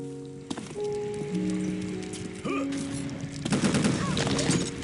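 Rapid automatic gunfire in Unreal Tournament 2004 with a ballistic weapons mod, dense crackling bursts that build into a sustained loud fusillade amid tonal game effects.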